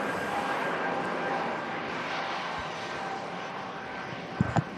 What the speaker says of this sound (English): EasyJet climbs out into the blue BU.